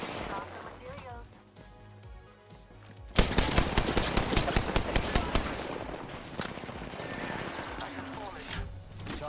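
Rapid video game gunfire erupts loudly after a quieter stretch of background game audio, with bursts of automatic shots continuing for several seconds and fading slightly toward the end.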